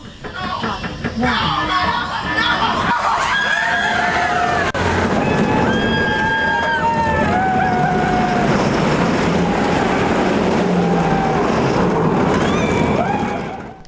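The Incredible Hulk roller coaster at Universal Studios roars continuously with loud rushing wind and rumbling track noise, and high wheel squeals rise and fall over the din before it fades out at the end.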